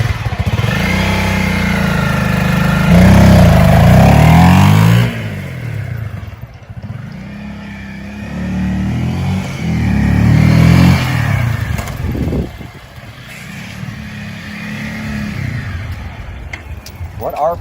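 A motorcycle makes a fast take-off using the rear brake, its engine revving loudly for a few seconds, easing, then surging again. The pattern repeats once more and fades toward the end.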